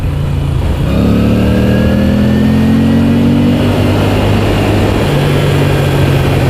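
A 2016 Moto Guzzi V9 Bobber's V-twin engine pulls steadily under acceleration while riding, a loud continuous mid-pitched drone with rising harmonics and strong wind rush, with no talking.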